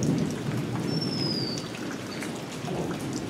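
Daytime rain falls steadily on puddles, making a dense, even hiss and patter that holds a constant level throughout, with no voices.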